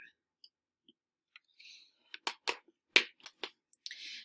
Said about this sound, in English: I just am hitting tab in between to move from one cell to the next.